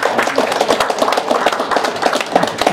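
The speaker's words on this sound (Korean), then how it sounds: "다시 한번 박수 한번 해주세요." An audience at a Korean international diplomacy and security forum claps together, close and loud, with distinct rhythmic hand strikes forming an irregular patter throughout.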